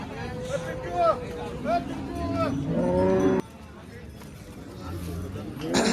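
Cows moo several times in a long, deep call at a busy cattle market in Kopargaon. Babble from the crowd and nearby voices run beneath them.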